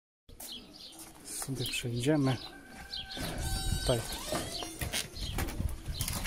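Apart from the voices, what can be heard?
racing pigeons cooing and flapping in a pigeon loft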